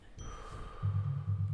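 A phone rings with an incoming spam call: a soft chime followed by a sustained buzzing ring tone, fairly quiet and close, with no voices.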